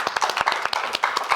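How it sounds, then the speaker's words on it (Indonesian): Studio audience clapping during a comedy roasting show, brisk close clapping from a small group in a short burst. "tepuk tangan sekali lagi buat Bayu."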